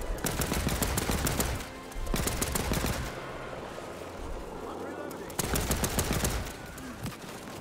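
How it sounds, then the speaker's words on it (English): Automatic gunfire in the war shooter Land of War: The Beginning, with rapid bursts of close machine-gun fire separated by short quieter pauses, and a voice talking between the bursts. "Who's fucking shooting at me?"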